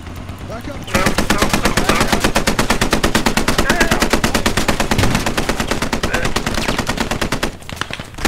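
Sustained machine gun fire in the military shooter Squad, a long, loud, rapid burst of dense shots that begins abruptly and runs nearly unbroken, with a brief gap near the end before firing resumes.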